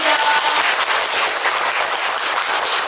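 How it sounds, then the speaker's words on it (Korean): A loud, dense burst of audience applause at a corporate partnership signing ceremony, many hands clapping steadily and close by for the whole three seconds. "여러분 큰 박수 부탁드립니다"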